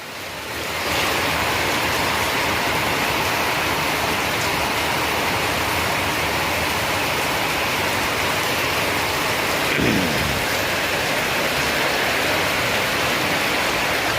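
Heavy monsoon rain pours down in Chhattisgarh as a loud, dense, unbroken roar. It holds steady and close throughout.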